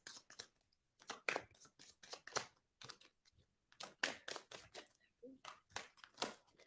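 A deck of reading cards is shuffled by hand in a run of crisp, rapid riffling bursts with short pauses between them, close and fairly quiet, with no voices over it.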